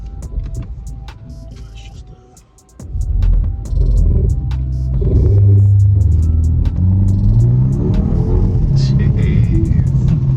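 A 2025 BMW 230i M-Sport pulls away hard from a brake-boost launch, its engine dipping briefly before swelling into a loud, rising, throbbing roar that carries on strongly, with people speaking over it inside the cabin.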